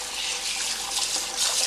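Running tap water splashes over raw chicken breast as it is rinsed in a kitchen sink. The rushing flow is steady and close, with no talking.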